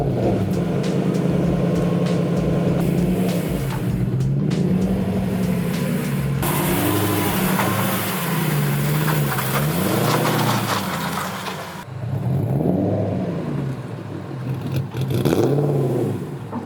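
A tow truck arrives with a loud, steady engine drone that swells and revs in waves, close by, with no talking over it.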